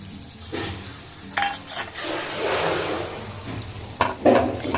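A spoon stirs bitter gourd and potato curry with kasuri methi in a pan on a gas stove, producing scraping, soft sizzling and a few metallic clinks, heard close with no speech.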